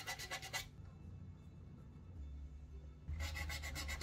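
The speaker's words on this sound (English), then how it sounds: "I'm just lowering the nut on this uh, violin, it was a bit high." A file rasps down the nut of a violin to lower it, heard as close rhythmic scraping strokes: a quick series of gritty passes, a lull of softer rubbing, then another run of strokes, with no speech.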